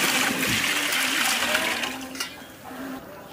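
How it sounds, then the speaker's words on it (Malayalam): Water pours into a large cooking pot to prepare bamboo chicken biryani, a close, continuous splashing gush that slowly tapers off toward the end. "നമുക്ക് അതിലേക്ക് കുറച്ച് വെള്ളം വെച്ച് കൊടുക്കാം."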